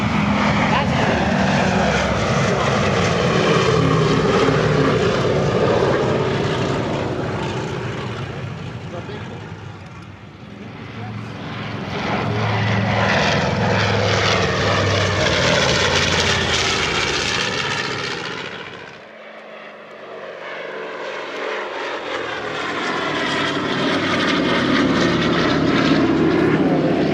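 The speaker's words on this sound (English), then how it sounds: "C-47 Skytrain, built by Douglas." A Douglas C-47 Skytrain propeller aircraft flies past at a WWII weekend airshow, its radial engines droning loud and steady as it comes near, fades, then swells again, with people talking quietly under the noise.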